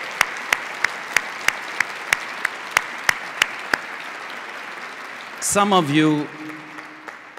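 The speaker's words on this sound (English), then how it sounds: "Yes, let's give them a big round of applause." Sharp, evenly spaced claps at a university ribbon-cutting ceremony, about a dozen loud strikes in a steady rhythm, followed by a short spoken phrase.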